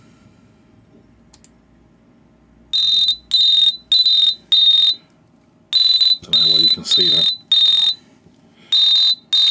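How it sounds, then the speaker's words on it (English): A phone security app's anti-theft alarm sounds on an Android phone as a loud, shrill electronic tone in repeated short pulses, about eight bursts in quick rhythm, with a person briefly talking under it. "Press here to stop the alarm."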